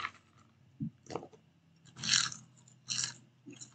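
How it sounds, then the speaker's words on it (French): Crunchy popcorn being chewed close to the mic, several distinct crisp crunches spaced unevenly over a quiet background. "C'est croustillant comme du popcorn"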